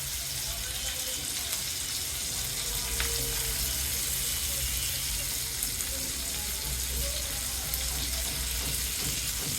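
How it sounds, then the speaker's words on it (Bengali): Garlic cloves and two medium onions fry in a pan with a continuous, even hiss and crackle, fairly quiet and close, with a low background hum and no talking. "গোল্ডেন ব্রাউন করে ফ্রাই করে নিব"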